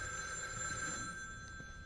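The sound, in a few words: telephone ringing in video game The Evil Within 2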